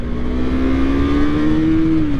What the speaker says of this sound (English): second gear, just revving it out.